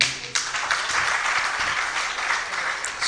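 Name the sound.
audience applause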